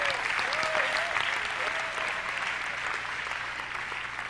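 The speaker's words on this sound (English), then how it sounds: "Clap your hands." An audience at a sermon or lecture claps hands in steady, sustained applause that fills the whole stretch, loud and dense with a crowd murmur underneath.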